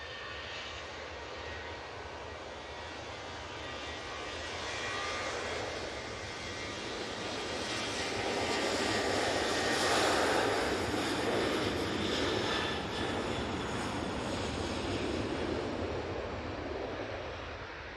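A Ryanair airliner taking off at Manchester Airport sends a broad jet roar that swells steadily, peaks near the middle and holds loud and sustained as it climbs away, with no talk over it.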